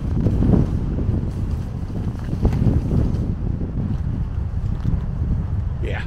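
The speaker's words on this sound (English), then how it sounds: "A bit windier over here" Wind buffets a microphone outdoors on a sunny day, a continuous low roaring rumble that fills the clip at close range with no other clear sounds.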